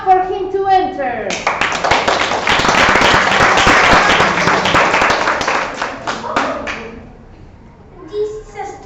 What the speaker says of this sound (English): Let's clap for him to enter.